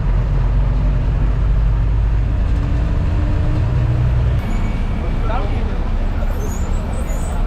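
Heavy city bus engine rumble and road noise fill the space, then the low drone drops as the bus slows and comes to a halt at Little Mount bus stop in Chennai.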